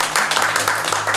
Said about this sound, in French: On applaudit Ghislain par rapport à cette question.